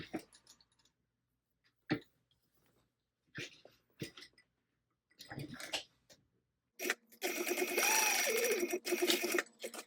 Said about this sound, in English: I'm going to stitch just along this top part here